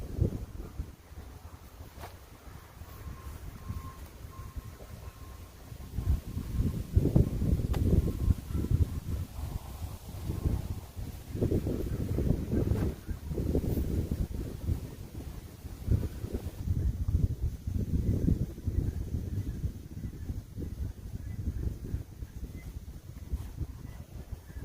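Outdoor wind buffets the microphone in uneven gusts, quiet at first and then a loud rushing roar that swells and fades repeatedly, with no talk.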